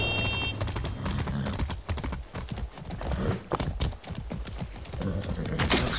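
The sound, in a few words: horse hooves in a video game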